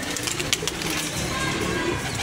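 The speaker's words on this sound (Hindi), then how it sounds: "ये भी हमारे उस्ताद जी के घर की कबूतरी है माशाल्लाह" A female pigeon in a rooftop pigeon loft gives soft, close coos over a steady background hiss, with a brief flutter near the start.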